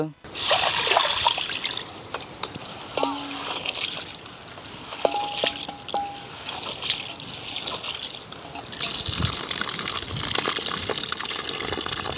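Water runs steadily from a tap as toor dal is washed, with a splashing, trickling hiss, punctuated by faint kitchen clinks and muffled voices.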